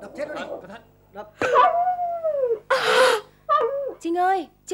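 A dog yelps, whimpers and howls in several drawn-out, close cries spread across the moment, with short gaps between them.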